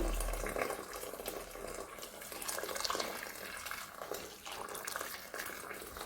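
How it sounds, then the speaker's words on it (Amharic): Hot water is poured into a cooking pot, a continuous rushing, splashing flow with some variation in strength, fairly close and unaccompanied by talk. "በዚህ ድስት አድርጌ ማለት ነው እንደዚህ ሙቅ ውሃ ታረጉበታላችሁ"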